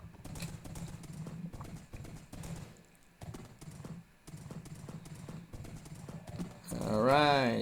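Minecraft horse hooves clip-clop in quick repeated bursts of taps, broken by short pauses, while a player talks over them, ending in a rising wavering whinny-like sound.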